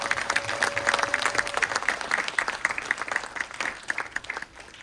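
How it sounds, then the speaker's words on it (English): Audience applause fills a planetarium hall at an astronomy slam event, a dense steady clatter of many hands at moderate level that tapers off toward the end. "can we just give another round of applause for everybody"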